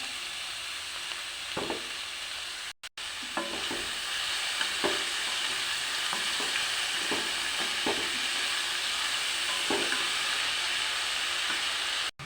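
Ash gourd with fried moong dal fries in a pan under a steady sizzling hiss, punctuated by occasional spoon scrapes and stirring knocks, close and moderately loud with no voices.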